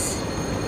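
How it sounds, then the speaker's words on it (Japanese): A train rumbles through Paris Gare du Nord station, a brief loud burst of rolling rail noise with a faint high squeal near the start. "この青い電車はフランスのクレイユの方まで行ける"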